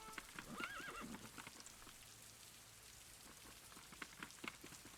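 A horse in the video game Daggerfall gives one short whinny near the start, faint and set against a steady wash of rain-like hiss and soft clip-clopping hooves, with no speech.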